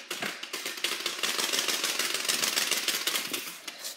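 Bicycle modified to sound like a motorcycle, a rapid rattling flutter like a small engine, close and continuous at a steady pace for a few seconds.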